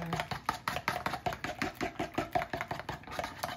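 Eggs and spicy Cajun mustard being whisked together in a bowl, a steady run of quick, rhythmic clicking strokes, close and fairly quiet, with no one talking.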